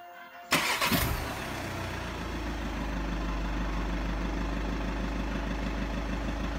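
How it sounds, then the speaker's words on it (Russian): 2015 VW Caddy engine cranking briefly and catching, then settling into a steady low idle heard close up with a continuous rumble and no talk. "включи ближний свет и заведи машину"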